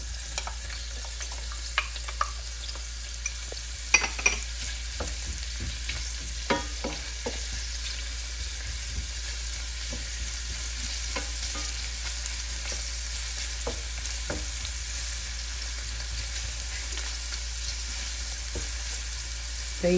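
Onion and garlic frying in a pot for a shrimp and vegetable stir fry, a steady close sizzle broken by scattered stirring clicks and spatula taps, with no talking.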